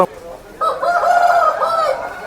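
At a village livestock market, a rooster crows once, a long drawn-out call close by, after a brief low noise at the start; no one speaks.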